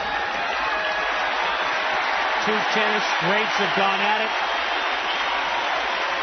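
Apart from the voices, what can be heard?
crowd applause at 1989 US Open tennis match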